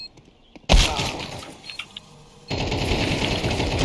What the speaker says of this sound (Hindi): तू पहले गोली चला रहा था